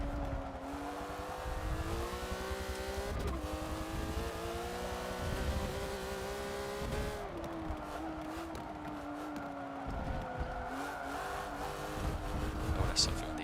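Porsche race car in Forza Motorsport 7 during an A-class open lobby race, its engine droning steadily and rising and falling in pitch through gear changes, loud and continuous under a speaking voice.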